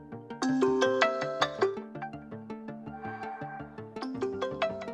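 A OnePlus Nord CE4 Lite ringtone plays as a volume preview, a bright, steady melodic phone tune of repeated chiming notes at moderate, even loudness with no talking.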